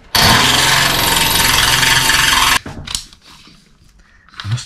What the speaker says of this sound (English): these drill bits do not like going through these little bolts